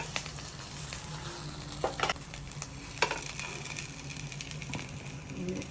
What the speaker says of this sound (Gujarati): એટલે તમે આ રીતે આને શેકો એટલે વચ્ચેની સાઈડ પણ શેકાઈ જશે.